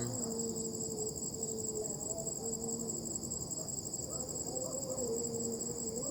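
Crickets and other insects chirp in a steady, high-pitched drone in a cemetery, with faint occasional bird calls in the distance against an otherwise still night background.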